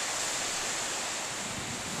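Morning ocean waves breaking on a beach, a steady broad wash of surf with wind noise, loud and continuous throughout.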